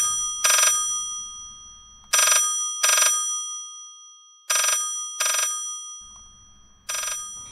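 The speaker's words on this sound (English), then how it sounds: "The phone rang." A telephone rings in repeated pairs of bright electronic trills separated by pauses, clear and fairly close against near silence.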